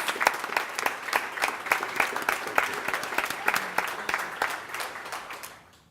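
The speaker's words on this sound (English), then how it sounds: "Give them a round of applause." A crowd at a Louisville neighborhood planning meeting applauds steadily with dense, rapid claps, holding strong for several seconds before tapering off near the end.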